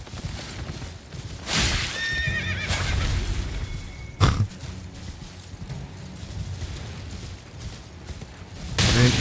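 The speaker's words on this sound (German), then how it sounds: "Hey, Pferd, komm her." A horse in the Elden Ring video game whinnies in a drawn, wavering call, followed by a sharp impact and softer game sounds, with a second loud burst at the end; no talking.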